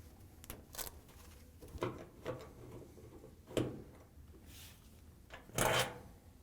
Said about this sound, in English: We're going to use a Phillips screwdriver to take them out.